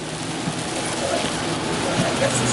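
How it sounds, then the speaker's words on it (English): Heavy, oppressive rain pours down in hot weather, a dense, constant hiss of drops striking surfaces, close and steady throughout without speech. "That's oppressive rain and this oppressive heat."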